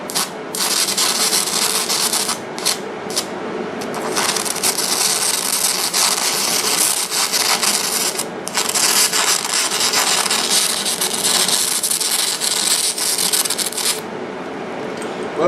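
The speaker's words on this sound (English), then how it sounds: "Weld about an inch, brush flux off, clean it down." Stick welding on a cast iron Bridgeport mill vise gives a loud, steady crackling hiss of the arc that runs for long stretches, broken by a few brief pauses.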